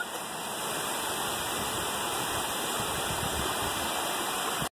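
Water rushes through the Flume Gorge, a dense, constant roar of flowing water close by with no pauses, ending abruptly.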